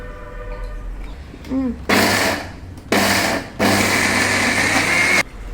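A mixer grinder grinding amaranth and spinach leaves whirs loudly in three bursts, switched on and off, with a short pause between runs; quiet room tone before it starts.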